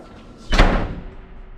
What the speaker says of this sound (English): don't mind that door